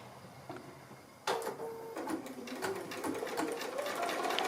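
A sewing machine stitches a straight seam through cotton strip fabric, starting abruptly and running as a steady, close, rapid mechanical chatter that continues to the end.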